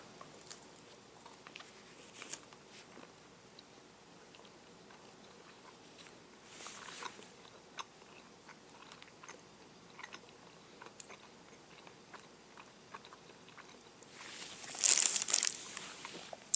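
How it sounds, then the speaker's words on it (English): Someone bites into a salted nut roll candy bar of peanuts and nougat, with soft, quiet chewing and faint crinkling of the wrapper throughout and a louder crunchy burst near the end. "Bit of salted nut roll versus bit of PayDay bar. Taste test in 3, 2, 1."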